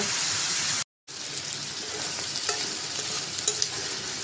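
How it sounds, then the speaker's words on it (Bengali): Pointed gourd and potatoes fry and sizzle in a pan with spices, a steady close crackle with light stirring scrapes, briefly cut by a short gap of silence. "পটল আর আলু দিয়ে দিলাম এটা একটু কষিয়ে নেব"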